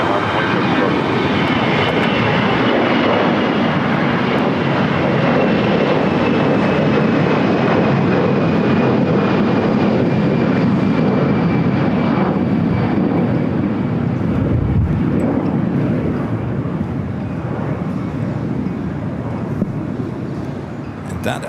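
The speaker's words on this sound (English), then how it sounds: "We do have an Allegiant A320 now taking off." Allegiant Airbus A320 jet taking off at LAX, a loud sustained engine roar with a high whine, steady and close before easing slightly toward the end.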